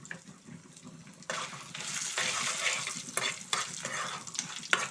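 About fifteen dried red chillies with cumin seeds fry in a well-heated kadai, a steady close sizzle that swells partway through, with spatula stirring and scraping, no one talking.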